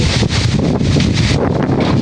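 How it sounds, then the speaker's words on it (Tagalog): Strong wind buffets the microphone in loud, rumbling gusts, with a breathy roar rising and falling throughout. "maraming lakas ng hangin"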